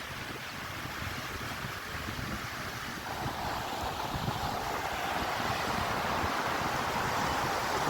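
Steady roar of morning sea surf washing onto Barrister Colony beach in Old Digha, a continuous broad rush of waves with wind buffeting the microphone throughout.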